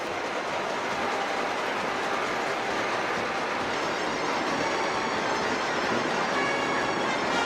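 An ACE Trains model A3 locomotive in blue British Railways experimental colours runs along its track, giving a steady, continuous rumble and rattle with no break throughout.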